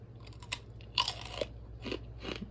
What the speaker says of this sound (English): That is some good crunch.